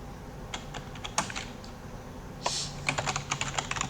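Quiet computer keyboard typing, with scattered individual keystrokes followed by a quicker burst of clicks near the end, close and alone without talk.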